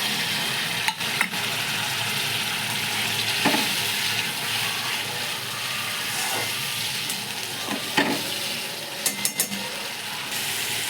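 Tomato paste frying in a pot of spiced masala for bhetki fish biryani: a steady, close hissing sizzle with occasional clinks and scrapes of stirring.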